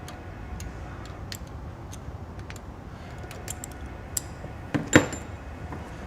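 Ratchet running down rocker shaft mount bolts during a shaft mount rocker installation, quick light clicking ticks in short irregular bursts, close and fairly quiet, ending with a sharper metallic clack.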